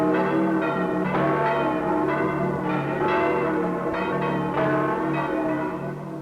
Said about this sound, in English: The bell that tolls for Easter morning also tolls for death.